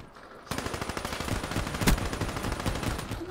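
Sustained automatic gunfire from Black Ops 3 rattles in a rapid, continuous stream after a quiet start, loud and close, with one sharper crack partway through and no talk.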